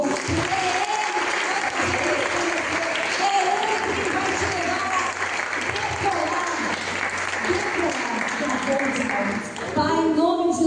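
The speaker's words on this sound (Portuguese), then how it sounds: "Eu quero que você aplaude o Senhor." A church congregation applauds during a service, sustained clapping running for about ten seconds beneath voices and tonal sound, with people speaking over it.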